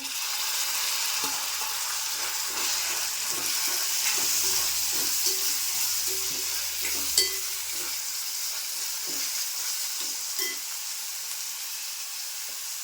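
Curry leaves and chopped tomato sizzling with onions in a pan for a Malvani kaleji dish, a steady close hiss of frying with occasional soft stirring knocks.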